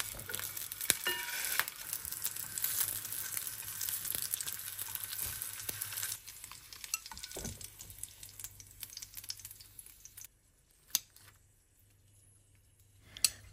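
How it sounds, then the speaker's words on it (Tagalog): A small spoonful of lumpia shanghai filling frying in oil, a crackling sizzle that is fairly busy at first, then thins and drops quiet, with a few sharp taps near the end. "magpiprito lang tayo dito ng konti para matikman natin bago natin ito"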